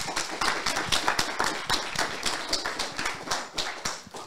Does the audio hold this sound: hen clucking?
no